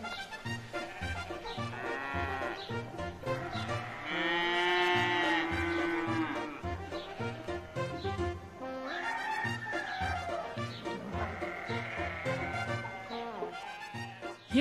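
Cattle on a farm moo in two long, drawn-out calls, loud and near, with quieter lowing and other sounds filling the gaps between them.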